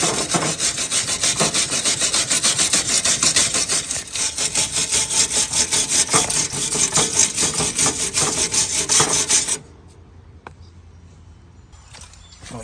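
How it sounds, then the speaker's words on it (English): A wire brush scrubs a Toro Timecutter riding mower deck in steady, rapid rasping strokes, close and loud, stopping abruptly near the end and leaving quiet handling sounds. "let's get a wire brush"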